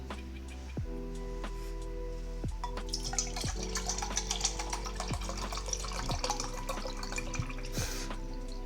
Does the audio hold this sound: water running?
yes